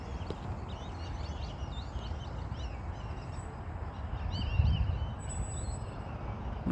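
A flock of birds calls under a Florida sky, with faint, scattered chirps and squawks drifting over a steady outdoor background rumble and a brief louder thump midway.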